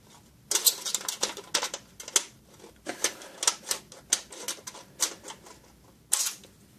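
Snips cut through an aluminum panel along a bend, producing a rapid series of sharp metallic clicks and crunches in uneven bursts, close and fairly loud with brief pauses between runs.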